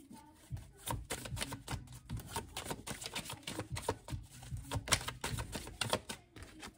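Tarot cards shuffled by hand before a reading, a run of soft papery flicks and riffles in an uneven rhythm, close and fairly quiet with no talking.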